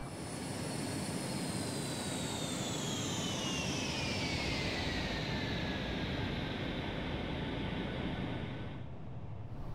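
The jet engines of a QualityWings 757 airliner in FSX wind down to idle during descent, a continuous loud roar with a high whine that slowly falls in pitch before the sound drops away at the end.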